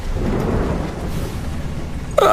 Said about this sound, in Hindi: बिजली चमकती है, जोरदार बारिश शुरू हो जाती है।